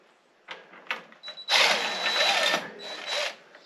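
A power driver backs bolts out of a T5 transmission in a 1954 hot rod, firing in a few short, quiet bursts before a longer whirring run, with no talk.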